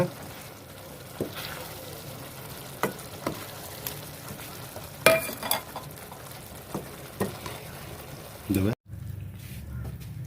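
Potato and chana dal being stirred in a pan for a Tamil poori masala, giving a soft sizzle with scattered scraping clicks of the spoon against metal; a voice talks over it, with a sharp knock near the end.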